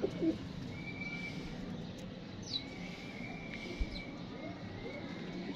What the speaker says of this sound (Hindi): ये देखें, कटा हुआ कबूतर है माशाल्लाह